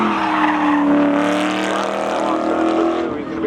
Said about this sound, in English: Can the CRV take down the Mustang? They're off down into turn number 1.